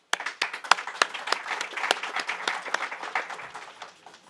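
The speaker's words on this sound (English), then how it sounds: "I request the audience to give a big round of applause for welcoming our esteemed guests." Conference attendees at an Afghan Hindu and Sikh national gathering clap to welcome guests, a moderate round of applause with distinct individual claps near the front, swelling briefly and then tapering off.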